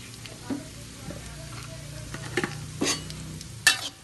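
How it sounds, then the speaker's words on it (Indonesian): Anchovies (ikan bilis) fry in hot oil with a steady sizzle, while a utensil stirs and scrapes the pan in a few sharp clanks, heard close up. "Kita goreng ikan bilis juga."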